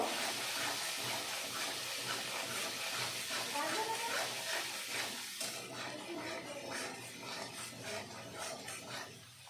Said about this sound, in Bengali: লঙ্কা গুঁড়ো দিয়ে আমি মশলাটা ভালো করে কষিয়ে নেব।